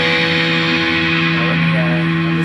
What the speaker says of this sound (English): you can really induce some nice feedback there